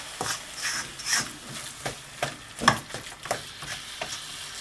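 Minced meat masala with red chili powder, salt and garam masala stirred in oil over a high flame, irregular scraping strokes of a spoon against the pan over a soft frying hiss, without speech.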